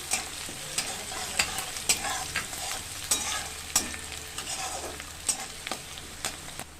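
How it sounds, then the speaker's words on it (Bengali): Onions and green chilies stirred and fried in a pan for a moringa leaf dish, a steady close sizzle broken by regular scraping strokes of the spatula, with no talking. "এবার আমি এগুলো দিয়ে দেবো একটু লাল করে ভেজে নিতে হবে"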